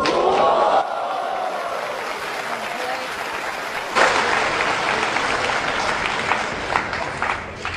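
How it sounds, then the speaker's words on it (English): Snooker crowd at the Shanghai Masters 2012 final breaking into sustained, loud applause that swells again midway, a dense wash of clapping filling the arena. "Applause, and rightly so."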